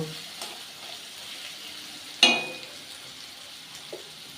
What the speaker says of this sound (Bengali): খুব ভালো করে মাছটা আমি